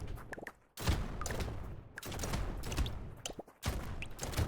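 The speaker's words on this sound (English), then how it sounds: "Oh, the shotguns are loud!" Shotguns firing in the video game Brotato, bursts of chunky overlapping blasts in rapid volleys, fairly loud and dense, with short lulls between flurries.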